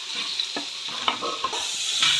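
Onion and capsicum for a homemade veg biryani sizzle in a pan, with a few sharp stirring scrapes from a spoon over a constant frying hiss, close up and without any voices.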